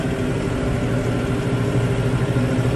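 A Mahindra tractor engine runs steadily while a snow pusher clears snow, a loud, continuous low drone close by with no break and no speech.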